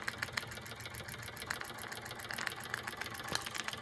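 A Wilesco D455 model steam engine chugs steadily with rapid mechanical ticking and a hissing, whirring texture, running continuously at moderate volume.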